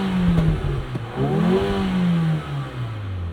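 A 2024 Mercedes GLA 35 AMG engine revs while in park, rising in pitch to a strong peak and then falling away, loud and close, with a faint clatter at the start.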